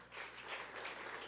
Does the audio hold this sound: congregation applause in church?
yes